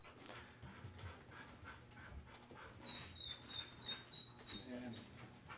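Police K-9 dog panting at a city council meeting, quick soft breaths close by in a large room, with faint high whimpers and murmuring voices in the background.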